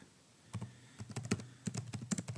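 Typing on a computer keyboard, a quiet close run of quick key clicks that starts after a brief pause and comes in uneven bursts.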